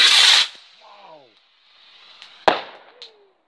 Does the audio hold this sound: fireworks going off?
yes